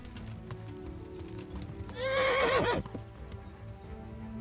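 A horse in the video game Kingdom Come: Deliverance gives one loud, wavering neigh lasting under a second, with soft hoof steps underneath, over a steady background of game ambience.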